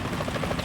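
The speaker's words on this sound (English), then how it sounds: "Is that a chopper I just heard?" A helicopter flies nearby in Metal Gear Solid 2, a steady low rotor drone with faint fluttering pulses that holds evenly through the whole short moment.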